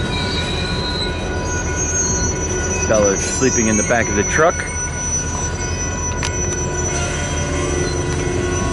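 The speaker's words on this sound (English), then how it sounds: "watching the trains go by." A freight train rolls past on a rail line, its wheels letting out sharp, wavering squeals in a burst midway through, over a steady rumble of railcars while a person speaks briefly nearby.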